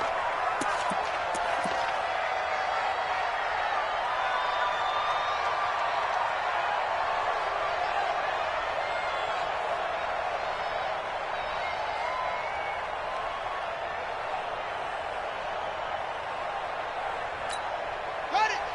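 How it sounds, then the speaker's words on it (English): Loud, sustained roar of a stadium crowd in an American football video game, a constant wall of cheering noise with a few sharp thumps near the start and end. "Combined with this crowd noise, makes it very difficult to run offense."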